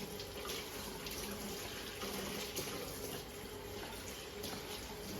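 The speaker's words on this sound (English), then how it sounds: "So just giving them a rinse like that." Harvested vegetables rinsed under a running tap to wash away straw and bits: a steady, close, hissing stream of water splashing continuously, with no talking.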